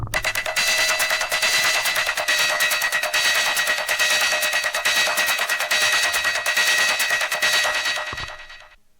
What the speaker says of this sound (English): So I added some of these hi-hats that sound like this.